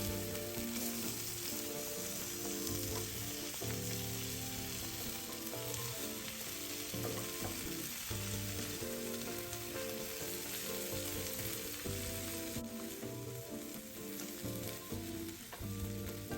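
Rice cake cubes and two cracked eggs fry in a hot pan, sizzling steadily and loudly throughout with occasional scraping stirs and a constant tonal background layer.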